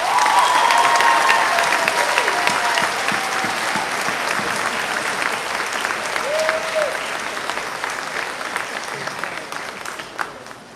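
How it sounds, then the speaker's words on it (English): A graduation audience applauds the class of 2023 speakers with sustained, full-room clapping that is loudest at first and gradually thins and fades over about ten seconds. "Let's give our salutatorian and valedictorian another round of applause."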